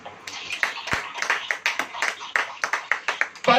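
Church congregation claps hands together in a quick, slightly uneven rhythm, loud and close, building into a steady beat with faint voices mixed in.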